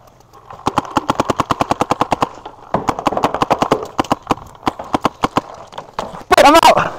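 Rapid bursts of paintball gun fire during a paintball game, sharp popping shots in quick rhythmic strings with short pauses, loud and close, ending with a brief burst of noise.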